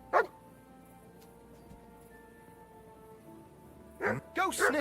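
A dog in Kingdom Come: Deliverance 2 barks once near the start, then yips and whimpers in a quick cluster at the end, over a quiet game ambience with faint tones.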